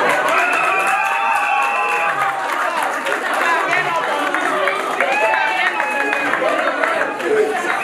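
Wedding guests at the back of the room clap during a civil marriage ceremony, a dense, continuous patter of applause mixed with crowd chatter and voices that carries from start to finish.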